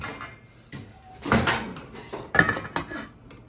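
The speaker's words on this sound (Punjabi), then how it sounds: "ਹੁਣ ਆਪਾਂ ਇਹਦੇ ਤੇ ਲਾ ਦਿੰਦੇ ਆ ਢੱਕਣ" A lid is set on a cooking pot of kheer made from fresh sugarcane juice, giving a few sharp metallic clanks and rattles, close and fairly loud, with no talking.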